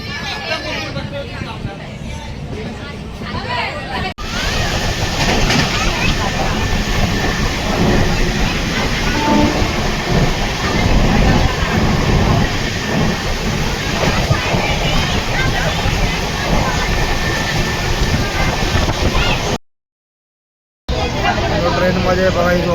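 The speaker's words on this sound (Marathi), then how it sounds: "आणि ट्रेन सुटलेली आता बघा" A Mumbai to Navsari train pulls out, heard from inside the carriage as a loud, steady rumble and rattle of wheels and coach with passengers' chatter underneath.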